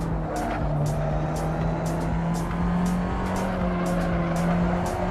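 In the Le Mans Ultimate sim racing game, a race car's tyres lock under braking and squeal with a steady high-pitched howl over the droning engine, loud and continuous, with repeated short ticks pulsing through.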